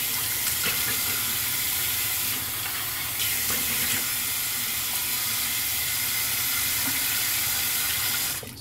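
A bathroom tap is left running, its water pouring steadily and loudly into a sink for several seconds, a continuous broadband hiss that cuts off abruptly at the end.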